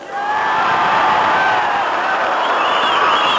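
A large outdoor rally crowd at Casemates in Northern Ireland cheers and whoops loudly and steadily, a dense wash of many voices close by throughout.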